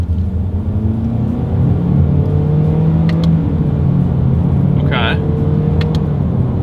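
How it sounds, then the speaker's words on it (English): A 2022 Honda HR-V with a CVT accelerates under a paddle-shifter test, a steady loud cabin drone and road rumble with a few faint clicks, while a person talks over it. "All right, you guys, here's the paddle shifter test."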